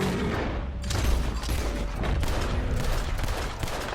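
Rapid gunfire blasts at a giant bear in Red Dead Redemption 2, a dense, loud fusillade of overlapping shots and booms running steadily throughout, with no clear talk over it.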